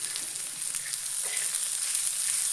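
Chamkura (colocasia) stalk vegetable frying in a pan as red chili powder, turmeric and salt are stirred in, giving a steady close hiss of sizzling oil with faint scraping of the spoon and no talk.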